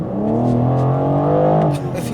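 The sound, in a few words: BMW M4 Competition accelerating hard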